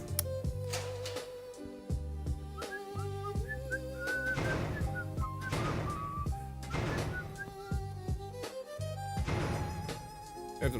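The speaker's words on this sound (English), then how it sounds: "I mean, I was only whistling." A person whistles a wandering tune in clear, sustained tones over a video game's steady music and soundtrack, with several phrases rising and falling.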